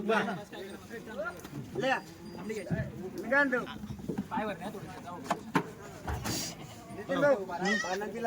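Goats bleat close by, several shaky calls overlapping, mixed with people chatting and general market bustle.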